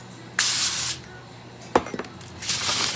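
Cooking spray hisses onto beets set in aluminum foil, in two loud bursts of about half a second each, separated by a crinkle of foil and a brief clink.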